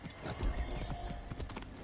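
A horse in the Assassin's Creed Origins video game clops along in a steady hoof rhythm under a busy game soundscape.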